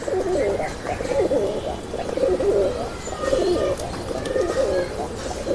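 Male Sundari pigeon cooing close by, repeated rolling coos in a steady rhythm of about five phrases, with light chirps from other birds in the background.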